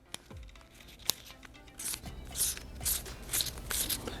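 Anodized aluminum garden hose fitting turned by hand close to the microphone, a few sharp clicks followed by soft scraping, rasping bursts of metal threads, quiet and alone.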